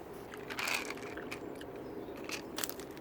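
Crunchy chewing of Trolli Sour Crunchy Crawlers, a sour gummy worm candy, heard as close, steady crunching and mouth noises with a few sharper crackles and no talking.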